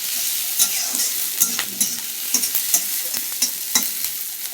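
Onion frying in oil with nigella seeds and dried chilies, a continuous close sizzle punctuated by regular sharp stirring clicks against the pan.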